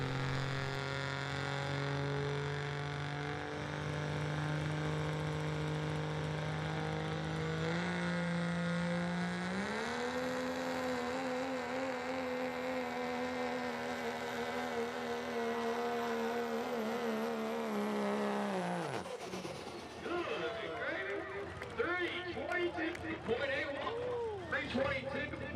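A hot rod diesel pulling truck at a truck pull event in Fishersville, Virginia spools up with a rising turbo whine, then roars off as the pitch drops and scatters, while an announcer talks over it throughout.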